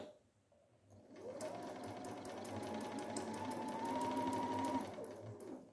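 Sewing machine stitching fabric and pivoting around a corner, a soft close whirring motor with rapid regular needle ticks ramping up after a quiet moment and running steadily for several seconds.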